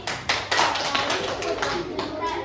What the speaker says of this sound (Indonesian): Tepuk tangan dong untuk Cici